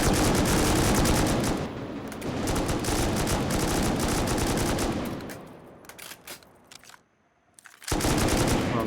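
Sustained bursts of heavy .50 cal M2 machine-gun fire with explosive rounds in a video game raid, loud and dense, thinning into scattered shots near the end, dropping out briefly, then resuming at full force.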